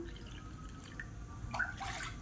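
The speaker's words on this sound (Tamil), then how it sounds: "ஒன்றரை கப் அளவுக்கு தண்ணி சேர்த்துக்கலாம்" Water poured from a measuring cup into a cooking pan while making sweet and spicy kozhukattai dumplings, a close, steady liquid trickle with splashy bursts toward the end.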